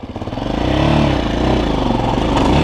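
A Forte CBA 250 enduro motorcycle engine revs up close and loud, rising quickly then holding a buzzing, pulsing high-revving drone.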